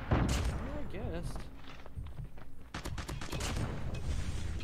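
Gunfire in a shooter video game, with bursts of rapid shots and sharp cracks over game noise and a voice, fairly faint overall.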